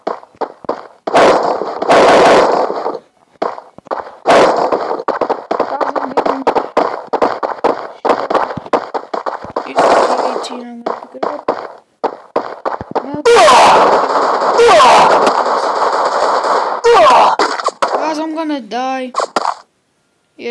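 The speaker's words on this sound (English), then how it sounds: "I'm getting shot." Gunfire in the Free Fire mobile battle royale game, with dense, loud bursts of rapid shots and sharp cracks coming in clusters, mixed with game sound effects and a player talking over it.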